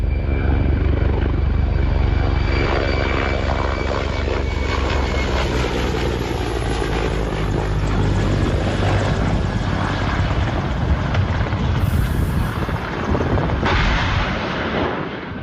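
A loud, continuous helicopter roar with thudding rotor and engine noise throughout, no voices.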